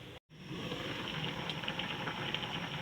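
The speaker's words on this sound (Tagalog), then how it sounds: "Kumukulo na siya." A steady bubbling, simmering hiss of a pot of chicken feet adobo with soy sauce, chili and sugar boiling close by, continuous and even, with a brief dropout near the start.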